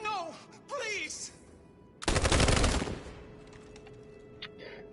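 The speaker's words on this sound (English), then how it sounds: "Gunshots." A close, loud burst of gunfire erupts after brief shouting voices, followed by quieter background noise and faint distant sounds.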